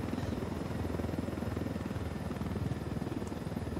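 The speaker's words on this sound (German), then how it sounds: "wird das Helikopterfliegen eine kleine Umstellung für euch" A helicopter flies in Ghost Recon Wildlands, its rotor giving a loud, steady throbbing chop with a continuous engine drone that holds even throughout.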